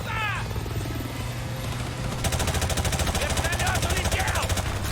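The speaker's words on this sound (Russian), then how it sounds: "Вертолет улетел!" Helicopter in the video game Call of Duty: Modern Warfare Remastered, a steady low rotor drone with a fast chopping beat that grows louder halfway through, mixed with brief game sounds.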